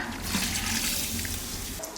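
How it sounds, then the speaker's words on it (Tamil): Water pours steadily into a pot of village-style country chicken curry with a continuous splashing rush, close by and fairly even throughout, with no talking. "கொஞ்சமாக தண்ணி ஊற்றிக்கலாம்"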